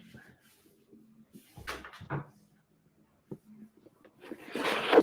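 Knocking at a home door: a few scattered soft knocks and thuds in a quiet room, then a louder burst of rustling and bumping near the end, with no talking.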